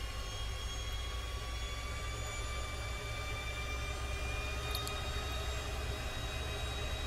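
An AV-8B Harrier II jet idles while lining up on the runway in Microsoft Flight Simulator, with a constant droning engine hum and steady whine holding evenly throughout and no talk.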